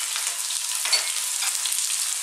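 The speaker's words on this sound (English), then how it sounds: "we're going to fry these around for about 4 to 5 minutes" Onions and garlic-ginger paste sizzle in a hot pan, a steady bright hiss with brief surges as the food is moved around, close and continuous, without talk.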